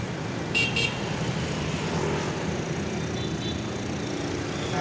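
Continuous street traffic in Nha Trang, Vietnam, with motorbikes passing and a short horn toot near the start. The roadside din is steady and fills the whole stretch without speech.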